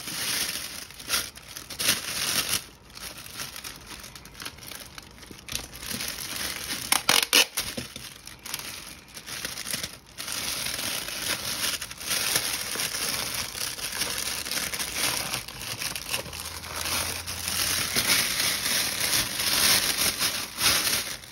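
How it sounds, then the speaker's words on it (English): Tape pulled and pressed down on the sides and bottom of a gift basket, with loud papery crinkling and crackling in irregular bursts, close and continuous, plus a few sharper rips and taps. "I'm going to tape down these little sides here, the little bottom portion, tape that down, tape down the other side"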